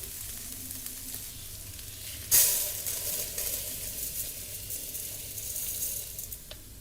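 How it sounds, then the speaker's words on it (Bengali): Washed rice is fried in a hot pan with oil for a white pulao, making a soft continuous sizzle with a sharp hiss when the grains go in, then stirring scrapes. "চাউলগুলো দিয়ে সুন্দর করে ভেজে নিব"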